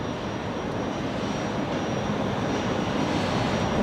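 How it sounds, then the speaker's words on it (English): A New Zealand Boeing 777 taxiing at Brisbane Airport gives off a steady, loud broadband jet roar that holds even throughout, with no voices. "so the New Zealand 777's taxiing much faster"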